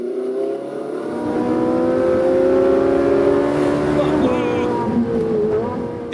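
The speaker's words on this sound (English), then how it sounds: "The Italian attitude towards exhausts is that they should allow engines to sing." Ferrari 458 Italia V8 engine revving loudly inside a tunnel, a sustained harmonic roar that swells and holds with echoing reverberation, then shifts pitch near the end.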